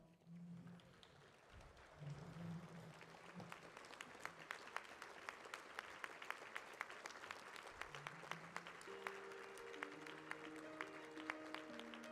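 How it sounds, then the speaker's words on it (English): A standing banquet audience at the New Mexico Sports Hall of Fame induction claps for the class of 2021, steady crisp applause building and continuing while music with a sung line plays underneath. "Please everyone stand up and clap for the introduction of the class of 2021."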